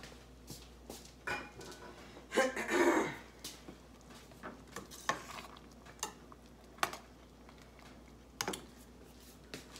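Blackberries cooking down in a pot for cobbler, stirred with a spoon: scattered soft scraping clicks and a brief louder burst of stirring, fairly quiet, with no talk.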